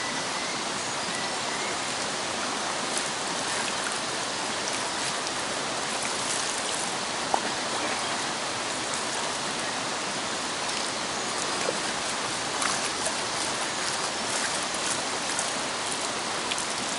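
A brown filter bag is soaked under running water, giving a steady, even splashing hiss that continues without a break and has no voices over it.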